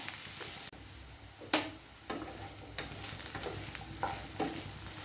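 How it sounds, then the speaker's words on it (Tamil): Bitter gourd pieces frying in oil toward golden brown for paavakkai thokku, a steady close sizzle broken by a few sharp stirring scrapes and clatters. "இந்த எண்ணெயிலே இந்த பாவக்காய் நல்ல ஒரு கோல்டன் ப்ரௌன் ஆகிற வரைக்கும் நல்லா ஃப்ரை பண்ணி எடுத்துக்குவோம்"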